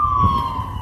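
An emergency vehicle siren wails steadily in downtown Ashland, holding a high sustained tone at moderate loudness over a low rumble of traffic.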